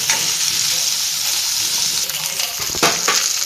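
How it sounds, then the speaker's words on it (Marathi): Drumstick vegetable sizzling and frying in hot oil while being stirred, a steady crackle with a few louder scraping stir sounds near the end, close up and with no talking. "हे दोन मिनटं असं चांगलं तेलात मी फ्राय करून घेतले"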